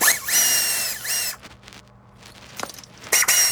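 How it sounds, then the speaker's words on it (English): An air ratchet with a 17 mm socket on a swivel works loose the front brake bolts on a 2018 Hyundai Santa Fe 2.4L, giving loud bursts of high-pitched whirring at the start and end with quieter clicks and clatter between. "I'm going to use a air tool, air ratchet, with a 17 on the swivel"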